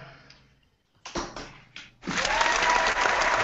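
An applause sound effect comes in after a few short knocks and clicks, then swells into a sustained burst of loud, dense clapping that continues to the end.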